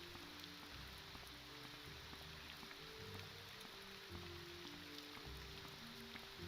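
Rain falling in Morrowind, a steady, even wash of rainfall with soft low patter underneath, continuous and fairly quiet with no voices.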